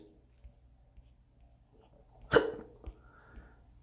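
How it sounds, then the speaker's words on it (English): A single sharp human hiccup stands out clearly in a quiet room, followed by a softer catch of breath. "Got the hiccups."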